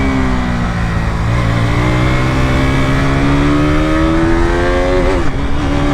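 A KTM RC 200 motorcycle with a revised single-cylinder engine revs hard on a racetrack, its loud, close engine tone climbing steadily through the gears, then briefly dipping and rising again near the end.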